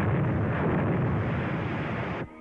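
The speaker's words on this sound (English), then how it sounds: "That's a 3-inch shell they're firing at us." A 3-inch artillery shell explodes in a war scene, a loud, sustained roaring blast that rumbles for about two seconds before cutting off abruptly.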